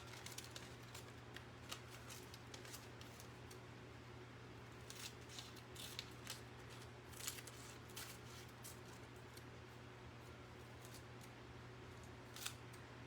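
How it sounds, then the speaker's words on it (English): Paper being trimmed with scissors, a steady run of faint, crisp snips and rustles over a constant low hum, with no talking. "I just kind of cut that, kind of trimmed it around so that I wouldn't have so much excess paper"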